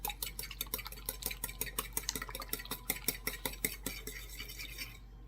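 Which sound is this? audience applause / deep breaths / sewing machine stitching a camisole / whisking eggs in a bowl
whisking eggs in a bowl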